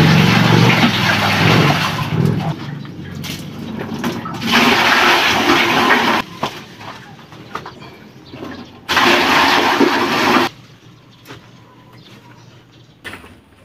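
Tap water poured into a steaming container for fruiting bags, heard as loud broadband rushing bursts that stop and restart, with quieter clattering between the pours.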